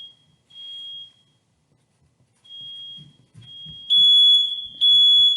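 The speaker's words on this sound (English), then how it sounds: "oh, that's my final alarm," A smoke alarm sounds while someone is cooking, giving several loud, steady high-pitched beeps in an on-off pattern. Brief low voice murmurs sit underneath between the tones.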